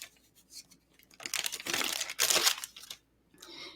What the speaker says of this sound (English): let's go ahead and get that tear and tape out